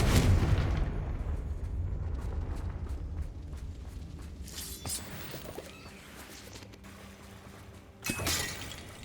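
Magical Confringo spell explosions in the video game Hogwarts Legacy: a heavy booming blast with rumbling decay, followed by crackling debris and a second sharp burst near the end, loud and close with no talking.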